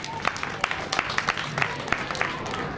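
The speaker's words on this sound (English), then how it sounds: "A round of applause for her." Audience at a school gathering applauding a newly appointed headmistress, scattered distinct claps forming a modest round of applause, fairly faint and distant.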